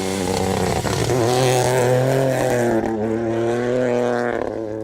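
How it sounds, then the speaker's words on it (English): A Rally 3 car, an Evo, on a tarmac rally stage gives a dull, heavy engine note, holding a loud sustained drone that rises and then fades as it passes. "Dull heavy tones of that car"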